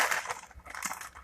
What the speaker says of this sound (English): I use scissors, so I'll just grab one